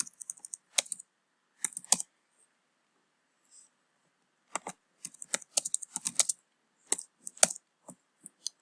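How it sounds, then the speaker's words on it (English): Light, intermittent typing on a computer keyboard, with soft irregular bursts of key clicks separated by short pauses, close and fairly quiet with no talking. "I can't talk while I type."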